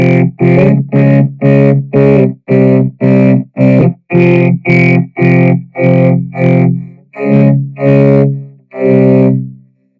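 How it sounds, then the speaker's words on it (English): A Boss RC-505 vocoder turns a string of rhythmic vocal-like chords into a robotic harmonized tone, each hit swelling in softly with a slow attack, loud and close. "You can hear it's kind of like fading in. That's what attack means."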